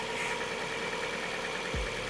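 An Opel Astra H car engine idling, a steady, even running hum heard up close throughout with no talking.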